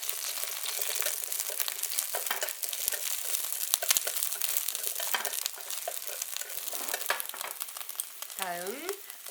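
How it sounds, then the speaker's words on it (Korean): Garlic chives stir-frying in oil in a hot wok for a Chinese chive japchae, with busy crackling sizzle and repeated scraping and clattering of utensils, a brief tonal squeal near the end. "불이 올라오기 시작하면은 후부추의 뿌리부터 넣어서 볶아주세요"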